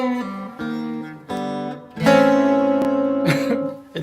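Guitar plays a song with a wrong ending chord, several plucked chord changes building into a sustained, clashing final chord, close and clear with no talking.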